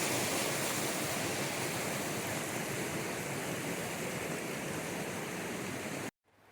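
A trio of waterfalls in a mountain forest pours out a steady, dense roar of rushing water that fills the whole clip without voices, then cuts off abruptly near the end.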